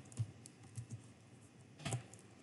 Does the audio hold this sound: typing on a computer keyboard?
yes